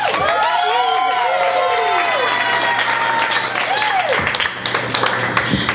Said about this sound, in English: Come on, give me some applause.